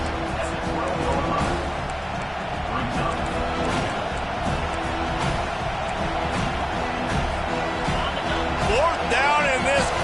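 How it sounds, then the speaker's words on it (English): A packed stadium crowd at a Florida versus Florida State college football game roars continuously as the defense takes the field, a dense, sustained wall of cheering and yelling with an announcer talking over it. "this crowd will blow out a vocal cord to help this defense"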